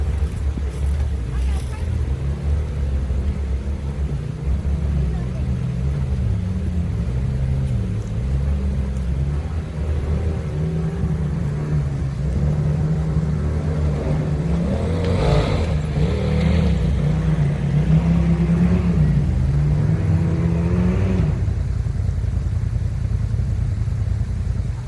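Off-road vehicle with gear reduction on a Black Mountain, Kentucky rail bed: a steady engine drone with rising and falling revs, loudest in the middle, heard close under wind noise and talk.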